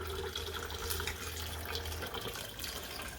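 Water runs from a tap to rinse out a pot after boiling acid, a faint steady splashing flow with a low hum underneath and no voices.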